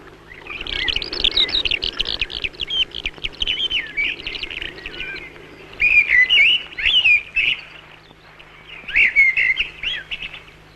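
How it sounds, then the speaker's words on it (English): Birds chirping and calling in repeated bursts of high twittering song, outdoors with a faint low background hum. "the birds still go crying in the empty air"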